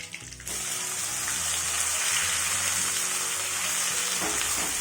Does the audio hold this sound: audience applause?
no